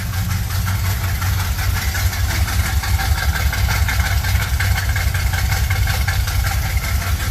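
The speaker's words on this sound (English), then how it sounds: "Let's go listen to the exhaust." A 1972 Monte Carlo with a 350 engine idles, its exhaust giving a steady, loud, close rumble with an even low-pitched throb and slight knocking rhythm throughout, no talk.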